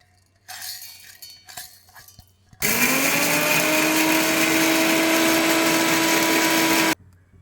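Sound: mixer grinder grinding roasted fenugreek and mustard seeds

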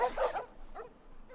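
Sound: dogs barking in The Last of Us video game

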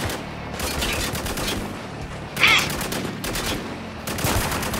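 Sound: gunfire from the video game Spec Ops: The Line

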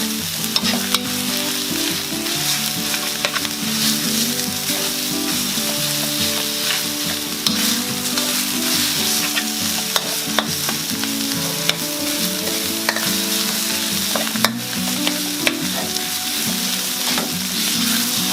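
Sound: minced pork frying in a pan for nam prik ong

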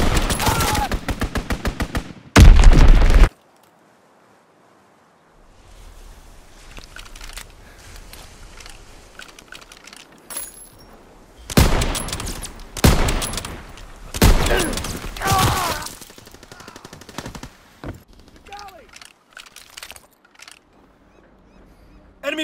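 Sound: strafing run gunfire in a WW2 video game

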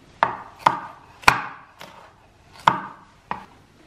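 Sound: chopping bell pepper

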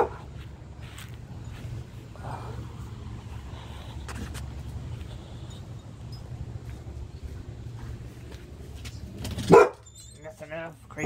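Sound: dog barking

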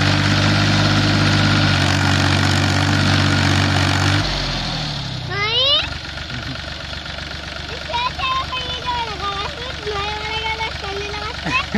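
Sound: Force Abhiman 4x4 27 HP tractor engine running

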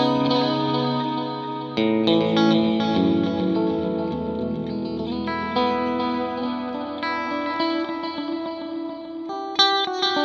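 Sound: guitar delay pedal with reverb on repeats

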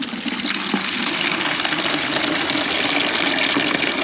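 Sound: water flowing from an opened tap

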